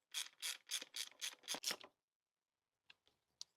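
Small screws being driven in while refitting the tail light on a Yamaha R125 motorcycle: a quick run of seven close, rhythmic ratcheting clicks, then a pause and a few faint, scattered ticks.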